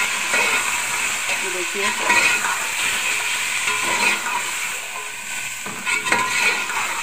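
Beef browning in garlic-ginger paste while being stirred for beef nalli nihari, a steady close sizzle of frying with scraping stir strokes throughout, and a voice speaking briefly.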